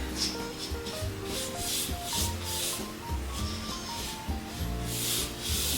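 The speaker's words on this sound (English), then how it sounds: "And I'm painting." A paintbrush sweeps over a screw head and a wall in steady, rhythmic strokes, each a soft, close brushing rasp, with faint music underneath.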